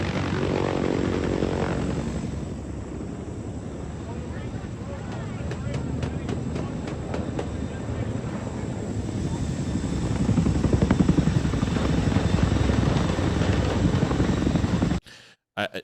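Chinook helicopter with its twin rotors and turbine engines, a loud, continuous near roar of rotor thrum and engine noise that stays steady throughout and swells toward the end before cutting off abruptly.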